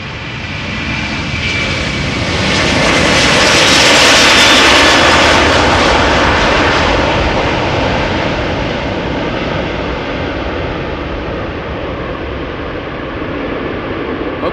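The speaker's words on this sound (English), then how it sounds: "the mic didn't get blown away by the noise of the A330" KLM Airbus A330-200 jet taking off from runway 36L at Amsterdam Schiphol, a loud continuous engine roar that swells to a peak and slowly fades as the aircraft climbs away, alone without talk.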